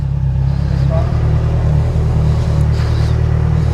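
A Kawasaki Z1000 naked sport motorcycle engine drones with a steady low rumble while riding, loud and close, with wind noise over it.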